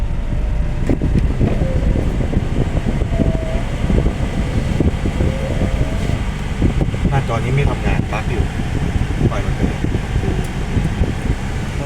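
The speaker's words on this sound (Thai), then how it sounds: "คราวนี้เรามาทดสอบแอร์" A Mazda2 Skyactiv diesel's air conditioning fan blows steadily, a constant rushing roar that fills the cabin without pause.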